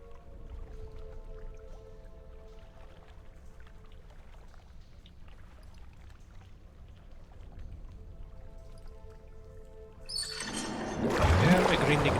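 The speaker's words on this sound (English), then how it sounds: "Hear a grinding noise beneath your feet and the rush of water." Rushing water beneath the floor of the Temple of Eothas in Pillars of Eternity: a low, quiet rumble with faint drips gives way to a sudden loud surge of water near the end.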